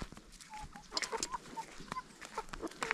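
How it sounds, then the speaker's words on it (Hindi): Kadaknath chickens cluck and squawk in short, scattered bursts in a Nepali village, close by and fairly quiet, with rustling in the background. "यहाँ पे ये मुर्गे हैं देखो, कड़कनाथ मुर्गा है ये"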